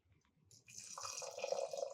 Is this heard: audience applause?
no